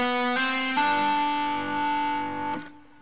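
Distorted electric guitar playing a few notes joined by hammer-ons, the tone sustaining with effects before a sharp scrape at the end.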